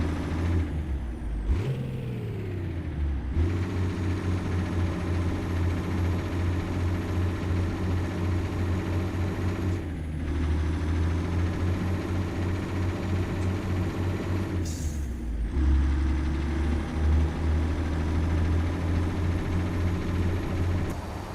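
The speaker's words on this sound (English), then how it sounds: "Yeah, this engine ain't really too loud. It's supposed to be kind of a quiet engine." A truck engine in American Truck Simulator, an FLX 359, hauls a Pizzster Commander trailer; its low, quiet drone runs steadily and close, with a few brief hissing air-brake releases.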